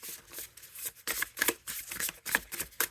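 Quick riffling bursts of an oracle card deck being shuffled, a series of crisp flutters close up with short pauses between.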